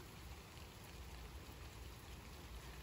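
Rain falls steadily after several hot days, a faint, even hiss of drops with no breaks and no voices.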